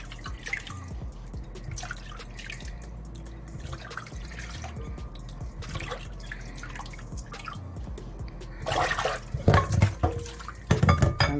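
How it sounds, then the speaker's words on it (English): Beef is rinsed under running tap water, with splashing and dripping that stays fairly quiet at first, then grows into louder, irregular bursts of water near the end, with no talking. "It's washed, so I'm gonna rinse it."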